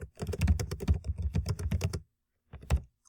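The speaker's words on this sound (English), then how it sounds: "after you type each movie title, you just press enter" Fast typing on a computer keyboard, a dense burst of close, crisp key clicks lasting about two seconds, then a pause and a few final taps like an enter press.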